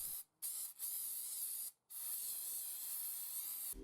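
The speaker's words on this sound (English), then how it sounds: "I sprayed brake cleaner to dissolve much of it" Brake cleaner sprayed from an aerosol can onto an axle cover gasket during a Ford Ranger rear axle swap, a steady close hiss in three bursts separated by brief pauses.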